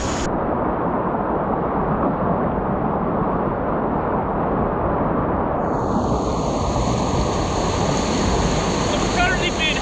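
Loud, steady rushing of river water churning and recirculating around a kayak at a whitewater course in Cardiff, Wales, with wind buffeting the microphone, continuous and close for the whole stretch.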